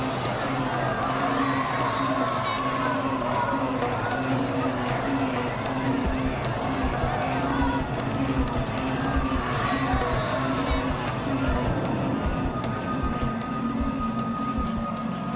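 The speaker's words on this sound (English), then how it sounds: "The police chief walks into the chaos as thousands of terrified people flee." Thousands of terrified people flee in chaos through a city during the Bhopal gas disaster, a dense, continuous crowd din of shouting and running feet that stays loud and steady throughout, with voices crying out within it.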